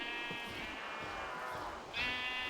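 Sheep bleating in Minecraft, a couple of wavering bleats over a quiet game background, with a sharper bleat near the end.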